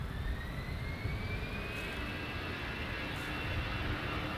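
A jet airliner lands on runway 24 right at LAX, its engines a steady, broad roar with a faint rising whine, heard from a distance and unbroken throughout.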